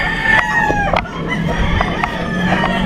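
Roosters crow at a Filipino gamefowl farm, with several long overlapping cock-a-doodle-doo calls and clucking, fairly near and loud over steady farm background noise.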